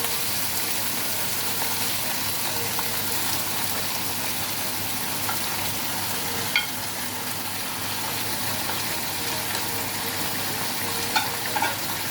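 Pork hits a hot pan for pork curry, a steady close sizzle and hiss that holds throughout, with a few faint clicks from stirring.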